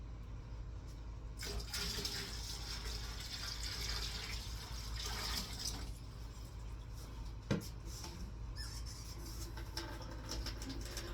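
Tap water is poured steadily into a large canning pot being readied for water-bath canning of dried black-eyed peas, a continuous close rushing and splashing that stays fairly even, with a brief sharper clunk partway through.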